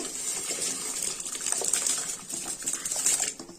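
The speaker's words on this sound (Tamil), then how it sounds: "இப்போ தண்ணி நல்லா கொதிக்க வருது. தண்ணி அரிசி சேர்த்துக்கலாம்." Rice is tipped into a large pot of boiling water for rice payasam, pouring and splashing with a gushing, bubbling rush, continuous and close with no voices.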